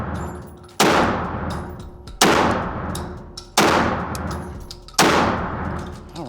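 MAC 1014 semi-auto 12 gauge shotgun firing four loud, close shots at an outdoor range, each blast followed by a long ringing decay before the next, spaced about a second and a half apart.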